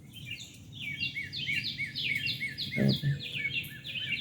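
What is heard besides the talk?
birds singing outdoors on a Sunday morning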